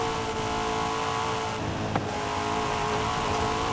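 A race car in Forza Horizon 5 on PS5, driven with paddle shifters, drones with a loud, steady engine roar that barely changes, with one brief blip partway through, and no talking.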